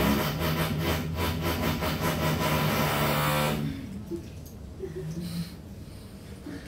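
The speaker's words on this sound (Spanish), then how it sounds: "Es un taladro, me parece." A power drill whirs and grinds loudly in pulsing bursts outside a lecture room for several seconds, then cuts off, leaving a quieter room with faint indistinct voices.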